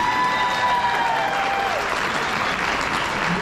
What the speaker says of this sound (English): because you were clapping so much